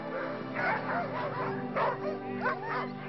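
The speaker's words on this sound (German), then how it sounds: "Wer zu Hause bleiben muss, protestiert mit lautem Jaulen." Huskies at a sled dog farm yelp, whine and bark in overlapping bursts, a restless chorus of many dogs close by with no talk over it.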